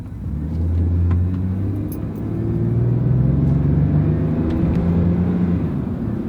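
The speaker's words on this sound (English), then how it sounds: "Yeah, maybe a little bit rough downshift, but it's an old truck." An old truck drives slightly uphill under load, its engine rumbling low and steady close by as the transmission works through its gears, with a slightly rough downshift in the continuous drone.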